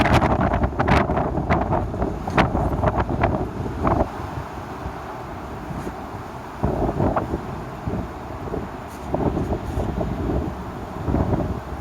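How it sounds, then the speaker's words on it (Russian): Strong wind gusts batter a balcony garden on an eighth floor, roaring and buffeting right against the microphone in uneven surges and brief lulls. "Какая скорость ветра?"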